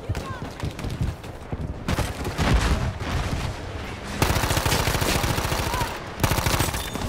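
Rapid automatic gunfire from an M2 Carbine in Battlefield V, dense sustained bursts with brief pauses, loud and close, mixed with battlefield noise and a voice talking over it.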